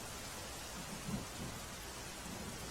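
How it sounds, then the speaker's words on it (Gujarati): Heavy rain falls in Bharuch as a faint, continuous wash of hiss, with a few soft low rumbles. "ભરૂચમાં સામેલાધાર વરસાદ પડી રહ્યો છે"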